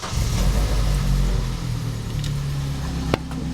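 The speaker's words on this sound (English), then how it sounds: "the car is running" A Vauxhall Corsa C track car engine runs with a steady low rumble throughout, loud and close, rising slightly as it settles, with a brief sharp click near the end.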